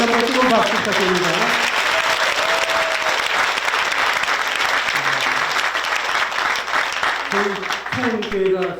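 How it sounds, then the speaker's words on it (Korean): A church congregation at a Bible seminary event gives warm, dense applause that fills the space and carries on steadily, with singing fading at the start and a voice speaking near the end. "다시 한번 뜨거운 박수 부탁드립니다."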